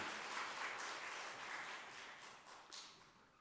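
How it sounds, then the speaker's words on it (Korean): A church congregation claps during an Easter Sunday service, a soft, fairly distant wash of applause that swells and fades over a few seconds. "하나님께 영광의 박수를 드리겠습니다"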